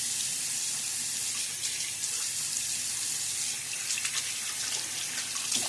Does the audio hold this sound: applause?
no